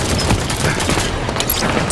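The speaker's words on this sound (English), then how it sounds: "Enemy fire!" Dense, rapid enemy gunfire from Halo 5 Guardians: overlapping bursts and volleys crackle continuously at high volume for the whole two seconds, with no pause.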